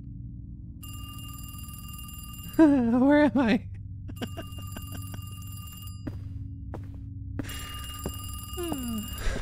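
An old-style telephone bell rings in repeated bursts with steady pauses in a horror video game, close and clear, while a voice speaks briefly over it and a low game drone hums underneath.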